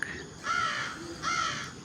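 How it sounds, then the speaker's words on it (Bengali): A crow caws twice, clear, harsh calls with a short pause between them over faint background hiss. "ক কতে কাক"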